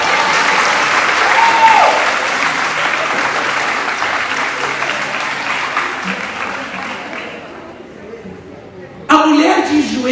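Church congregation at a Portuguese-language sermon clapping, a loud sustained wash of applause that gradually thins and fades, then a short burst of voice near the end.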